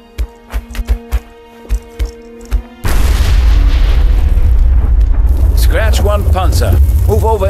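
Satchel charge exploding on a tank in the video game Red Orchestra 2, a sudden massive boom that follows several sharp gunshots, then a sustained heavy roar with voices shouting over it.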